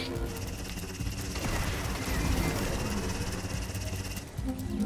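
Rapid, dense weapon fire from the space combat game Starlink: Battle for Atlas hammers on continuously and loudly, a thick stream of overlapping shots with mechanical clatter.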